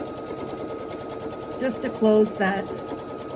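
A sewing machine runs a short straight stitch across the bottom of a fabric face mask, a brief close whirring burst of stitches after a quieter lead-in, while a person talks over it.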